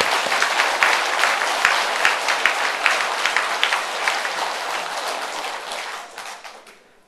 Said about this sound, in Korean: 모든 사역자들한테 감사 박수도